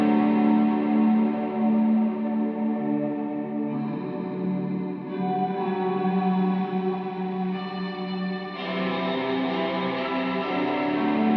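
Guitar played through an ALABS Cetus ambient reverb pedal set with pre-delay and modulation, sustained chords washing into long, shimmering tails with a gentle wobble, steady and close with no talking.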